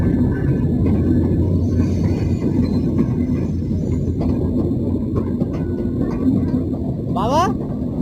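A train passes at Poradah, Kushtia, with a loud, continuous low rumble and clatter held steady throughout, and voices talking over it.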